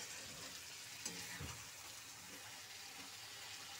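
Cauliflower frying with spices in a pan for a cauliflower roast gives a quiet, steady sizzle with soft crackles and a light stirring scrape, close by and unbroken.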